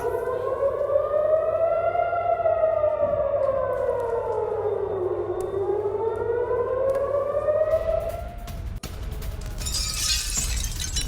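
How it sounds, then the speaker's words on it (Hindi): Air raid civil defense siren wailing loudly, its pitch sweeping up and down in a long slow cycle, followed by a sudden crash or shatter-like noise near the end. "एयर रेड अलर्ट जारी कर दिया गया"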